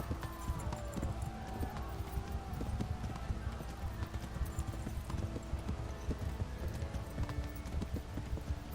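Steady clip-clop of horse hooves trotting in a continuous rhythm in the video game Kingdom Come: Deliverance, with a voice talking over it and some music-like tones in the background.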